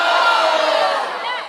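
A crowd of students shouts a loud, unified response, a sustained roar of many voices lasting just over a second before tapering off.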